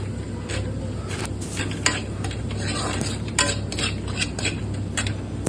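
Red chilli powder, garam masala, mutton masala, turmeric and salt are sautéed in a pan for a spicy mutton curry. A busy run of spatula scrapes and clinks against the metal pan sits over a low sizzle, and no voices are heard.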